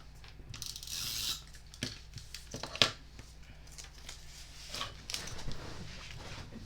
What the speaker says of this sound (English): I'm just going to take my tape runner and I'm going to go right over the top of it